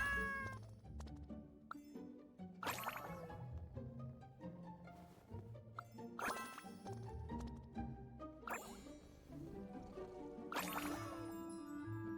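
A cartoonish cat meows repeatedly in a video game, Genshin Impact or Honkai: Star Rail, with soft chimes and tinkling effects over quiet game music throughout.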